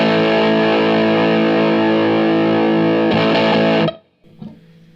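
Stratocaster played through an MXR Classic 108 Mini Fuzz with its buffer switched on: a thick, distorted chord held loud and steady for nearly four seconds, then choked off, leaving faint hum and a small thump.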